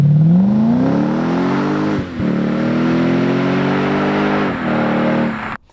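Lexus IS F V8 with an aftermarket exhaust revving loud and close, pitch climbing then holding high, with two brief dips between sustained pulls before cutting off.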